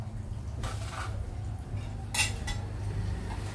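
A metal ladle scrapes and clinks against a pot of tom kha gai soup, a few light clinks with a brighter knock near the middle, over a steady low hum.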